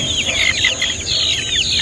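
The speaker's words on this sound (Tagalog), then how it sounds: "SBR, tandang po ito." Chickens cluck and chatter in a busy coop, several birds including a rooster calling over one another close by with a steady background hum.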